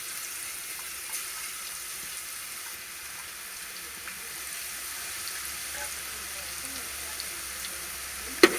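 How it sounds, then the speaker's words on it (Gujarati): Garlic sizzles steadily in hot oil in a home kitchen, a continuous close frying hiss with faint stirring, no talk, ending in a brief clack. "હવે આપણું તેલ ગરમ થઈ ગયું છે। હવે એમાં આપણે લસણ નાખી દઈએ"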